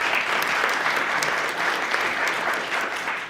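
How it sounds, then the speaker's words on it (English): Audience applause at an outdoor press conference marking the completion of an early learning center, a dense, even patter of many hands clapping without pause. "Let's give them a round of applause too."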